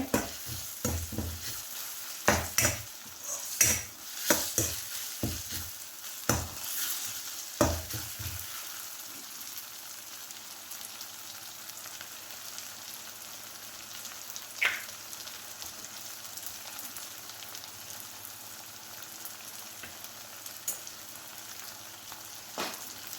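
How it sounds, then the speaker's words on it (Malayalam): Chopped garlic sautés in a pan for a curry, crackling and sizzling with sharp stirring scrapes and clatters early on, then settling into a quieter steady fry. "10 അല്ലി വെളുത്തുള്ളി കട്ട് ചെയ്തത് കൂടി ഇട്ട് കൊടുക്കാം"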